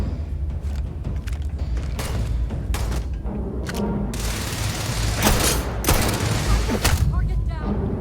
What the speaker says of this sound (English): This sort of reminds me of an anti-material rifle